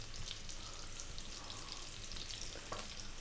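Onions and garlic fry on medium heat in a pan for shakshouka, crackling with a soft, continuous sizzle and light stirring that stays fairly quiet.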